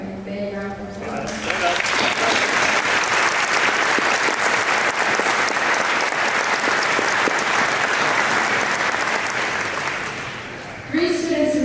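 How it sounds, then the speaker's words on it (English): A high school assembly audience at Germantown High School's Every 15 Minutes event applauds a student. The clapping swells quickly into a loud, dense, sustained ovation lasting about nine seconds, with a voice speaking briefly just before it and again as it fades. "let's offer him a big round of applause"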